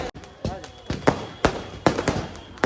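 Firecrackers at a wedding celebration pop in a quick irregular series of sharp, loud bangs, about seven in under three seconds, each leaving a short ringing tail.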